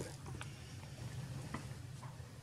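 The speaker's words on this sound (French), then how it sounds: "Il ne faut pas avoir des grumeaux, donc bien mélanger" Tiramisu cream mixture being stirred to smooth out lumps, a soft continuous wet scraping and swishing with occasional light clicks of the utensil against the bowl.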